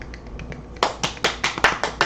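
A handful of people clap in a small informal gathering, beginning with a few faint scattered claps before louder, sharper claps come in an uneven rhythm at close range, with no talking.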